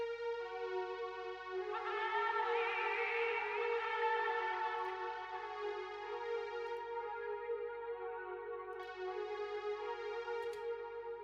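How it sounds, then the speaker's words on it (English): Layered synth strings in a house track made in FL Studio, sustained harmonic chords swelling and brightening through the middle, then thinning out before a soft re-entry, steady and alone with no voices. "And if we listen to the strings all together, they sound like this."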